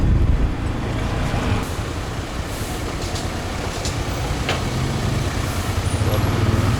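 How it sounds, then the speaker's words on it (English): Riding on a motorbike taxi through busy Bangkok street traffic, a loud, continuous rumble of engine and road noise with wind buffeting and passing vehicles, no clear talk. "Getting a motorbike taxi to somewhere we've never been before, and then just driving like a nutter"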